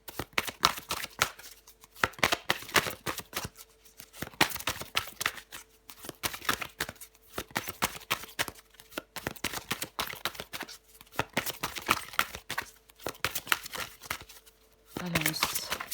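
Tarot cards are shuffled by hand close by, a busy run of papery riffles and slaps that keeps going with only brief pauses.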